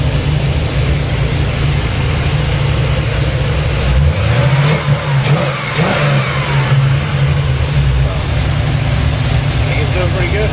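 A 1972 Chevelle engine runs loud and close, revved up twice in the middle before dropping back to a rumbling idle, with a voice in the background.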